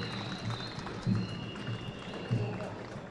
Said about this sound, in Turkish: Mehmetçiğin geçişi sırasında yurttaşlar alkış ve sloganlarla destek verdi.